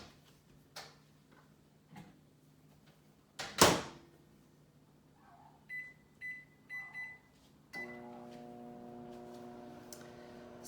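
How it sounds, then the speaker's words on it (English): A microwave is loaded with a lidded dish of seasoned fajita filling and set for seven minutes: a few soft clicks, a solid door thunk, a short series of keypad beeps, then a steady running hum. "put it in the microwave for 7 minutes"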